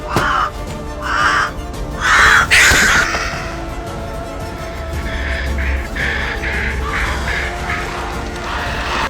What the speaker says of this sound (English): Just as he was about to enter the church, a crow blocked his path.